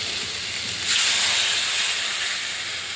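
Water hits a hot pan of fried potato and pointed gourd cooked with poppy seed, setting off a sudden hissing sizzle about a second in that holds steady afterward.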